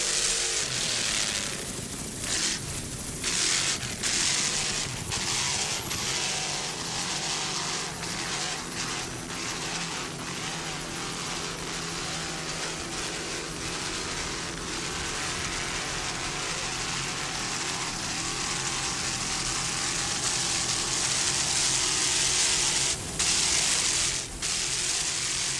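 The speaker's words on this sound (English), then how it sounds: "Nice throttling there by Hurley Stepp." Offshore powerboat engines roar steadily at a Miami race, a loud continuous drone that swells and dips as the throttle works, with no talk over it.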